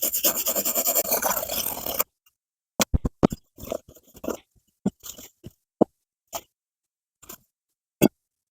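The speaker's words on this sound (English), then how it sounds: "I'm hoping I'm not going to scratch this up too much, getting that stuff off." Grime is scraped off a vintage Optimus 8R stove with short, sharp scratching strokes and scattered taps, close and clear, after a brief burst of noise at the start.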